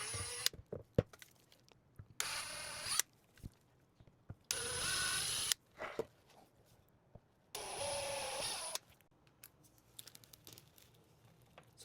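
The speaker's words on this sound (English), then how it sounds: "And just like before, just pre-drilling." A power drill whirs in three short bursts of a few seconds each while pre-drilling holes, with scraping and handling noises in the pauses between.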